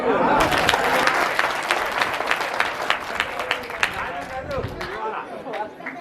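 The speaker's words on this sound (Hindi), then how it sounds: "अब ताली बजा दो एक बार।" An audience at a village Hindi kavi sammelan poetry recital claps in a burst of applause lasting several seconds, dense and fairly close, then fades as a voice starts speaking again.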